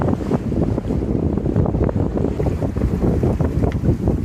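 Strong, loud wind buffets the microphone on a sailboat crossing the Gulf Stream between Florida and the Bahamas, a constant roar with rushing water beneath it and no talking.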